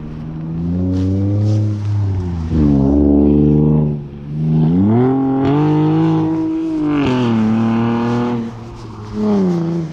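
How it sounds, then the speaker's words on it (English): A Mk5 hybrid motorised bike engine revs up and down in several loud, close surges, its pitch rising and falling with brief drops between pulls. "Check out my fully sick V8, mate!"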